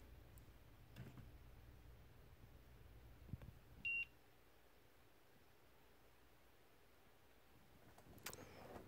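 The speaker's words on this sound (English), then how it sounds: "I think the beeping is like a low battery alert" A David Clark Bluetooth headset gives a single short electronic beep as a low battery alert, faint against a quiet background with scattered soft clicks and handling noise.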